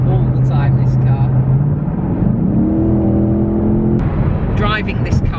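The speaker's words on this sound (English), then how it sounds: "I think the V8 sounds superb" A 450bhp Ford Mustang V8 pulls along steadily, its engine droning and climbing in pitch as it accelerates, with a person talking over it and passing road noise.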